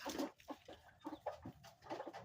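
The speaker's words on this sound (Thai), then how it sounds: "ขันเพาะ นะครับ คล้ายไก่ป่า" A bantam chicken of junglefowl type crows at a garden home, a short, rough, broken call at moderate distance with a faint, hoarse tone.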